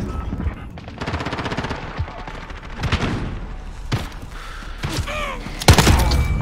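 Shotgun and automatic gunfire in Call of Duty: Modern Warfare, a dense run of sharp repeated blasts with a heavier close shot near the end, loud over busy in-game mechanical clatter and effects.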